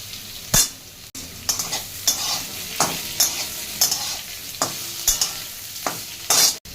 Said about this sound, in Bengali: সিদ্ধ করে রাখা পেঁপেগুলো একটু ভেজে নেব